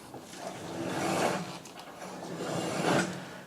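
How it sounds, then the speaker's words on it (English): Hydraulic fluid being forced through the power steering rack of a Porsche 911 996 C4S with a stiff steering fault: a steady, rough hissing whoosh that swells and eases twice in slow waves, close up with no speech. "Now that noise you can hear is just the hydraulic fluid being pushed through the rack."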